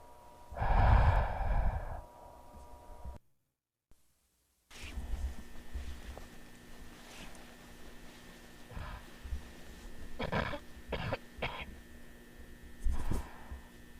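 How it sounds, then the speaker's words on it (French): A man wearing a gas mask coughs in an empty Backrooms-style setting: one heavy, muffled burst near the start, then a few short, quieter coughs later over a low steady hum. "Ah oui, il tousse, ce qui pourrait indiquer que l'air est contaminé."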